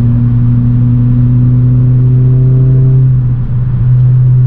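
A tuned 2019 Honda Civic Sport engine hums steadily at a low, even pitch, with a brief dip and surge near the end, close and loud with no voices.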